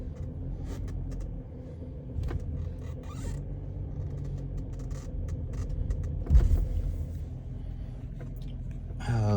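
A car pulls away after a cold start, with a steady low engine rumble and road noise, scattered interior creaks and clicks, and a louder thump partway through.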